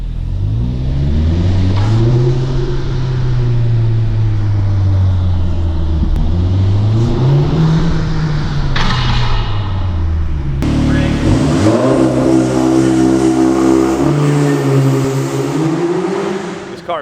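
A 2017 Audi S3 with a cold air intake revs up through the gears, its engine rising and falling in pitch before a louder surge, heard from inside the car while a voice talks over it.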